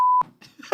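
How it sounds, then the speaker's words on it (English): A single steady electronic beep, clean and loud, cuts off abruptly and is followed by a brief mix of scattered electronic noises. "Just random beeps."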